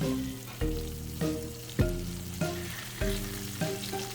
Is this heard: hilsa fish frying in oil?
yes